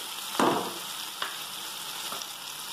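Chopped tomatoes frying in a pan for a bottle gourd (lauki) curry, a steady close sizzle with a few louder bursts as they are stirred, no voices.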